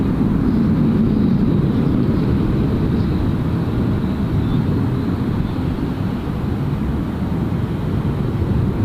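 A departing aircraft at Gold Coast Airport, a continuous loud low jet roar that holds steady and slowly eases, heard from a spotting position with some wind on the microphone.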